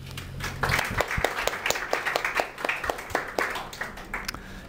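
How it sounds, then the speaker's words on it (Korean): A small class of students in a Java programming lesson claps their hands, with distinct, fairly sparse individual claps in an irregular patter at moderate volume. "우리 박수 한번 칠까요?"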